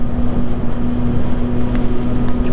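A Triumph Street Triple 675R motorcycle riding on a highway, a loud, steady engine drone with a constant tone under heavy wind buffeting on the microphone.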